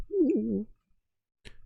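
A voice imitates harpies cooing like birds settling at roost, one low wavering coo followed by silence and a faint click.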